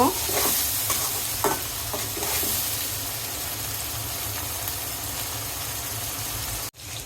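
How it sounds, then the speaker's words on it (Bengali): Ginger paste being stirred into spices in a hot pan while cooking village deshi chicken jhol: a loud, steady sizzle with a few scraping spoon strokes early on, cut off abruptly near the end. "দিয়ে দিব পরিমাণ মতো আদা বাটা নেড়ে ভালো করে একটু মিশিয়ে নিব"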